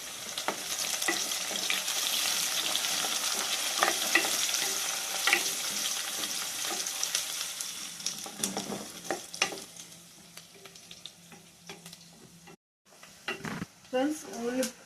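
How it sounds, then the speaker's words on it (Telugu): Onions and curry leaves fry steadily in hot oil in a home kitchen, giving a continuous close sizzle with occasional stirring scrapes, before a brief drop near the end and a few clinks. "ఫ్రెండ్స్, ఉల్లిపాయలు వేగుతున్నాయి"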